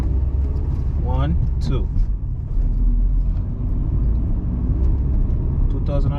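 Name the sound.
truck engine revving at 2000 RPM while shifting gears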